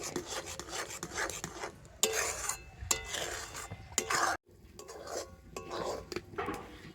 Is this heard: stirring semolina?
yes